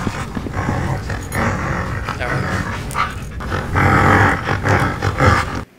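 A dog in a video game growls and snarls in a rough, continuous roar, loud and close, swelling stronger toward the end amid dense game noise.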